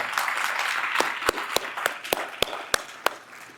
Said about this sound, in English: May we have another round of applause, please, for Vanessa and Mike